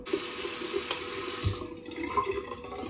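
Tap water runs steadily into a sink while a face is rinsed, a continuous close splashing stream with small shifts as hands move through it, no talking.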